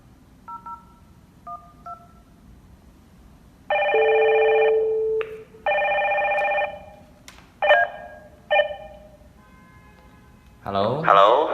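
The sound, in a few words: video phone call ringing after dialing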